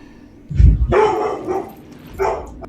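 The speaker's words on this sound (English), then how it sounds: "You hear it. The black dog is on the moor. It's calling." A dog barking, played as a sound effect: a low, heavy thud followed by two loud barks, close and alone with no talk over them.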